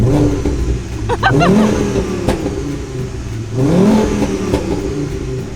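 Volkswagen Golf GTI Mk2 with a swapped-in five-cylinder engine, revved twice in quick rising sweeps over a burbling idle, heard close and loud on a farm, with a brief sharp click between the revs.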